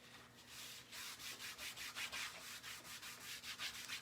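A cloth rubbing chalk off a reused chalkboard in quick repeated back-and-forth strokes, a close, steady scrubbing swish with no talking.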